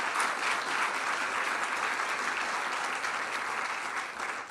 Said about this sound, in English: which deserves its own round of applause.